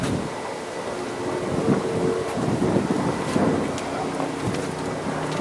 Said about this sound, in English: It's a little windy out here. And wind blowing like crazy.